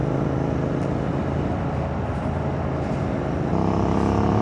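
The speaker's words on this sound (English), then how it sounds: "the way this bike accelerates is just too freaking amazing" Royal Enfield Interceptor 650 motorcycle accelerating on a rainy day, a loud continuous engine roar with wind rush that steps up in pitch near the end, heard close with no talking.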